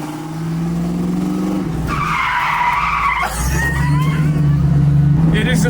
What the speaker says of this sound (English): I bet I could drift it now